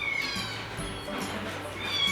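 A cat meows faintly amid the background murmur of a crowded Fourth of July pet adoption fair, with indistinct voices nearby.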